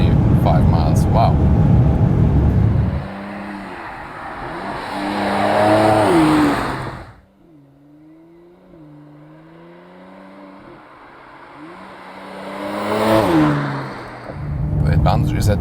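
A Mercedes-AMG C43 accelerates hard from about 100 to 200 km/h, its engine note rising through several gear changes with a pause and drop before climbing again, loud and close, with some talk alongside.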